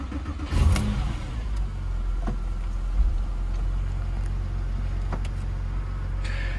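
A 2005 Porsche 911 997.1 flat-six cranks and catches with a sharp rev flare, then settles into a steady, close idle that runs on alone.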